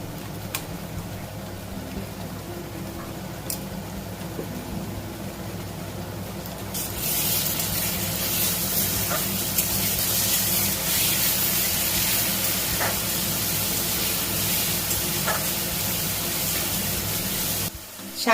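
A paste of ginger, garlic, green chilli and onion hits hot oil for a Bengali bhangar fish tel jhal, bursting into a loud continuous hiss and sizzle about seven seconds in that holds steady nearly to the end.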